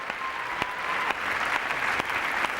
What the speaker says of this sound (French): vous pouvez remettre un petit coup d'applaudissement, mesdames et messieurs, pour MC Solar